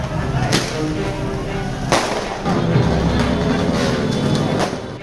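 Sharp firecracker bangs pop out of a noisy street brawl between two groups, two or three distinct cracks over a rumbling, chaotic background.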